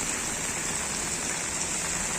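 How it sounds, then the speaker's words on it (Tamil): Light rain falls steadily over Tirunelveli town, an even, soft hiss of drops pattering on surfaces, continuous and close with no talk. "ரொம்ப லேசாக தான் பெஞ்சிட்டு இருக்கு. இன்னும் கடினமான மழையாக தொடர்ச்சியாக பெய்யலை."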